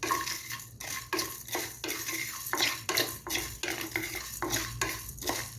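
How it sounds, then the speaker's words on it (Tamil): Coriander, fennel, cumin and pepper dry-roast in a pan for Chettinad vathakulambu, with a spoon scraping and stirring in a quick, repeated rhythm and soft metallic clatter against the pan. "இப்போ நம்ம மல்லி, சோம்பு, ஜீரகம், மிளகு எல்லாம் நல்லா வறுத்துக்கலாம்."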